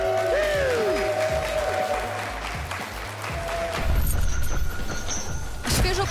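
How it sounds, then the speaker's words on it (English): A crowd at a slap fighting championship event applauds loudly for two fighters, sustained clapping and cheering that swells near the end, with an announcer's amplified voice over the start. "Big applause for these two fighters!"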